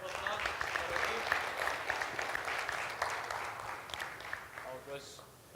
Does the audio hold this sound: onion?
no